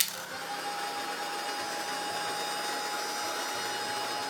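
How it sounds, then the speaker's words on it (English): A heat gun blows steadily and loudly over a mixed media Christmas tag, a continuous airy roar with a thin whine that holds unchanged throughout, with no voices. "I'm just going to give it another blast with a heat gun."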